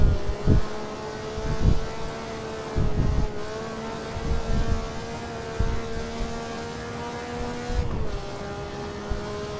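A Maserati 250F racing engine in the Assetto Corsa driving game revving hard at high pitch, with a sustained whining drone broken by repeated throttle blips and gear changes.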